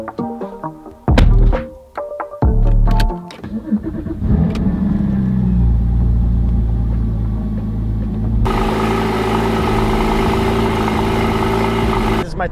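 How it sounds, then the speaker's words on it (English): A 2016 Porsche GT4 started up, with clunks and clicks before the engine cranks and catches, then a loud steady idle rumble that fills the rest, briefly swelling as it settles; a voice is heard early on. "So we're gonna get the car started here"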